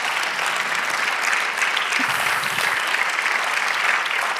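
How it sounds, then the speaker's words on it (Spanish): Steady, dense applause from a church congregation fills the whole stretch, even and sustained clapping with a faint crowd murmur underneath. "Denle un aplauso al Señor."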